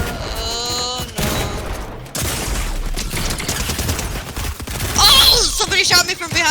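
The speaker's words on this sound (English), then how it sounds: "Somebody shot me from behind right here!" Bursts of video game gunfire crack through a chaotic multiplayer match, loud and repeated, mixed with music and sound effects while a player shouts and talks over the action.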